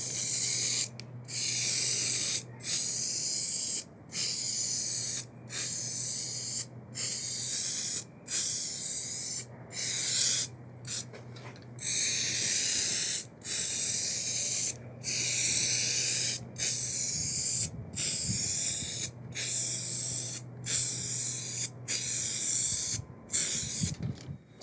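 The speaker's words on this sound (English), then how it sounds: "this stuff sprays really well right out of the can" GluBoost Lacquer Shot sprayed from an aerosol can, loud close bursts of hissing spray, roughly twenty in a steady rhythm, each about a second long and separated by short gaps.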